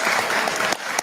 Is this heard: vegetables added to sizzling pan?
no